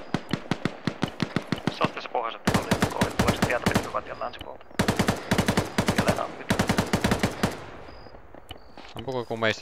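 Gunfire in the Arma military video game, dense bursts of rapid automatic shots in several loud volleys with short pauses, close by, with faint voices at the end.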